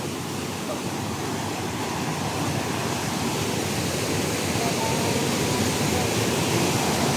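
Strong river current rushing past close by, a loud, steady broadband roar of churning water with no breaks, filling the whole scene evenly from start to finish.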